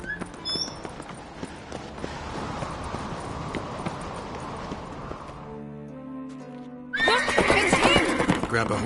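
Horse hooves clop along under scattered talk in The Witcher 3 video game, followed by a loud, close neigh near the end.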